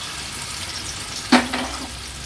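A piece of semolina- and rice-flour-coated surmai fish hits hot oil on a griddle with one sharp sizzling splash that quickly fades to a quieter hiss against a low, steady background.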